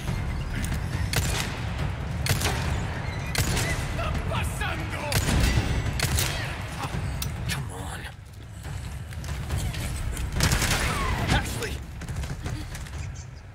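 Repeated shots from a handgun fired at enemies in Resident Evil 4 Remake, sharp cracks spaced a second or two apart over steady background game noise, with a voice talking over them.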